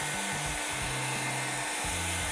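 Steady, loud whooshing roar of a Realme hair dryer blowing close by, with slight shifts in its motor hum.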